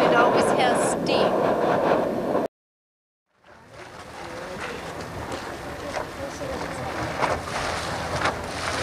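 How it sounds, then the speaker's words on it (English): A continuous broad hiss like rushing steam from a steam vent at Norris Geyser Basin, cut off by a brief moment of silence, then rising again and holding steady. "Steam vents lack water, You hear the hissing."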